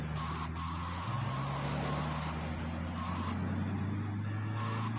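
A car is driven in the GTA Vice City video game, its engine a steady low hum that shifts pitch partway through, with a faint tyre noise over it and no talk.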